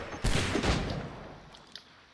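Gunfire in Assassin's Creed III Remastered, a couple of heavy booming musket-style shots in quick succession that fade into a rumbling tail, followed by a fainter distant crack.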